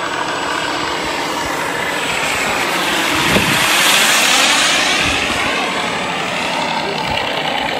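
An ESS-AIR V2.0 engine sound unit fitted to a P-47 Razorback 1500mm "Bonnie" RC model plane gives a loud, steady simulated radial-engine drone outdoors, swelling slightly midway, with wind and voices in the background.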